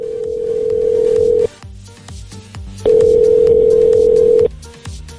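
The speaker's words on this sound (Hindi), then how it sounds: "काफी घंटी बजने के बाद आखिरकार किसी ने फोन उठाया।" A phone call rings out through the handset as two long, loud, steady ringback tones separated by a short pause, with faint background murmur between them.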